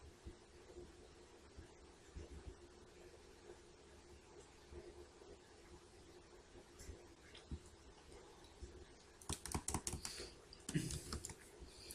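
Typing code on a computer keyboard, faint and sparse keystrokes under a low steady room hiss, with a denser cluster of sharper clicks near the end.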